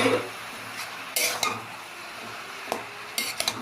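Bottle gourd being stirred with salt in a pan on the stove, with a utensil scraping and clinking against the pan in a few sharp, sporadic knocks over a quiet, faint background sizzle.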